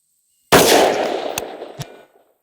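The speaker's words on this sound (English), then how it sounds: "We're going to shoot for groups at 600 here" A rifle shot with Norma .223 77-grain match ammunition fired for groups at 600 yards: one loud, sharp crack that rolls into a long fading echo, followed by two faint distant taps.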